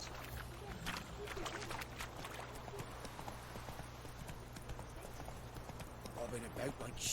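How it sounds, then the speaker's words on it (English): A horse gallops in the Witcher 3 game, a quiet, rhythmic run of hoofbeats under steady game background and a voice talking throughout. "get on my horse."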